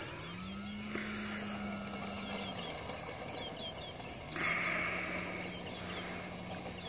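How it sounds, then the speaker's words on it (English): RC Visionaire model airplane taxiing on the ground, a steady electric motor whine rising and falling twice against a constant high-pitched background hiss, with no talk. "Taxiing out."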